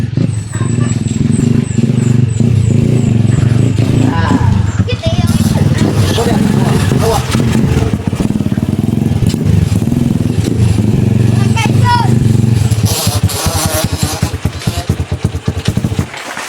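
A motorcycle engine rumbles close by, revving and clattering as it pulls up, with people chattering in the background.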